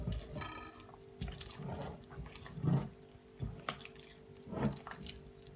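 Water is poured into a bread dough mix of flour, salt, sugar and yeast for Iraqi bread, giving soft, close drips and wet squishing sounds in a quiet kitchen.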